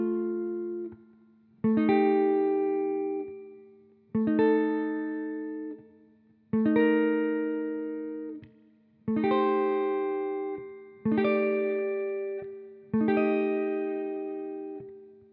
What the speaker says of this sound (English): play the shell voicing and change the top note using Mixolydian notes